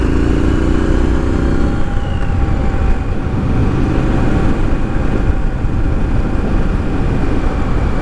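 A 2020 Triumph Street Scrambler motorcycle riding on the road, with a loud, continuous engine drone, a rev change early on as it shifts gears, then steady cruising.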